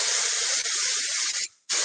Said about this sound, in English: I'm going to use my finishing spray to do this